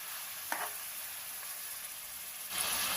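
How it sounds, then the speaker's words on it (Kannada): Mutton pieces fry in oil in a pan while dum biryani is being made. A soft, steady sizzling hiss continues with a brief louder spit early on and a swelling sizzle near the end, with no talking. "ಅದನ್ನೆಲ್ಲ ಈ ಎಣ್ಣೆಯಲ್ಲಿ ಹಾಕ್ಕೊಂಡು ಸ್ವಲ್ಪ ಹೊತ್ತು ಹುರ್ಕೊಳ್ಳೋಣ"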